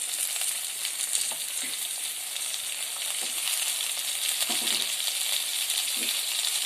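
Cut brinjal sautés in a hot pan for a dried anchovy fish curry, a steady close sizzle and hiss with occasional soft clinks and stirring scrapes, no talking.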